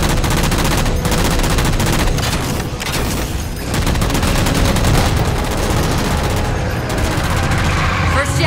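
Loud, dense gunfire fills a Halo 4 battle as shots are fired to bring down jammers, rapid overlapping bursts and booms continuing almost without pause.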